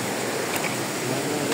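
A river on the Malarayat mountain traverse rushes with a steady broadband wash of flowing water, continuous and moderately close, with no voices.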